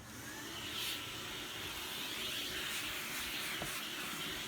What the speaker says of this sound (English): what I like to do first is go over it with another vacuum